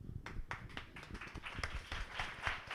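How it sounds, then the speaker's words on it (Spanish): Audience applause at a Madrid startup community anniversary event, a dense patter of many hands clapping steadily throughout with some low crowd rumble underneath. "voy a pedir un aplauso para ti"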